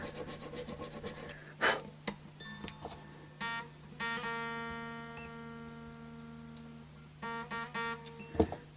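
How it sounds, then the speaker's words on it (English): A hand file rasps along a Strat-style guitar neck in uneven strokes, scraping and rubbing up close with short pauses between passes and faint breathing. "I'll probably file this down much more carefully than with a Dremel"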